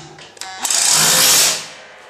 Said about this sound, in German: Und anstatt dann mit dem Hammer mache ich die mit der Bohrmaschine rein.